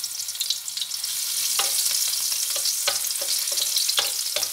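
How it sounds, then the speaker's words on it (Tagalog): Garlic fries in hot cooking oil as Christmas pansit is cooked, a steady close hiss with scattered crackles and pops and occasional clicks of stirring, no voices. "Ito, lagay natin ang bawang."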